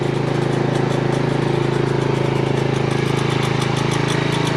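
A motorcycle engine idles steadily after starting up, a loud, continuous low rumble with an even pulsing throb holding throughout, close by and alone.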